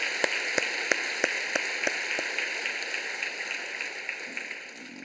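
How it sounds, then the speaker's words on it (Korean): A church congregation applauds in a sustained, even wash of clapping, with a few sharp, evenly spaced claps standing out at the start before the sound slowly fades. "박수로 하나님께 크게 영광을 돌리시죠"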